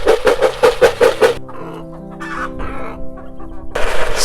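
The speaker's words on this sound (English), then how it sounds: "And here are the chickens that want food." Hungry chickens cluck rapidly in a close burst, then a rooster-like call and scattered clucks follow, with a loud flock noise returning at the end.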